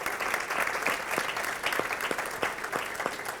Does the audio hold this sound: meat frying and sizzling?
no